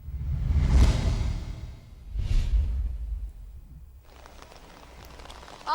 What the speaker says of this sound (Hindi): इस वक्त जैसे कि लाहौर में मूसलाधार बारिश का सिलसिला शुरू हो गया